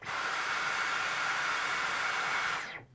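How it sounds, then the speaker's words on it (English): A Dyson Gen5 cordless stick vacuum runs on its own with a steady, smooth, airy whoosh and even hiss at moderate level, then shuts off abruptly at the end. "And finally, here is the Gen 5."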